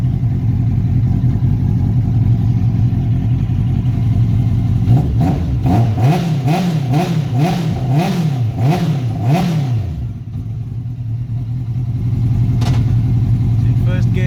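A Datsun with a swapped-in motorcycle engine runs close and loud, idling steadily, then revving in a rapid series of rising and falling blips before settling back to idle.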